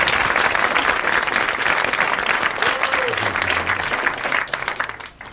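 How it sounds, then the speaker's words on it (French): A studio audience on a 1982 French television show breaks into loud, sustained applause, dense clapping that holds steady before tapering off at the end. "500 francs qui vont à Monsieur Monteil de Cognac, auquel va parvenir tout de suite vos applaudissements"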